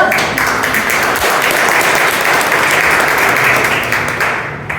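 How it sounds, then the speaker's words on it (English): An audience at a Toastmasters meeting breaks into loud, continuous applause that holds steady for several seconds before tapering slightly at the end. "Give me an applause."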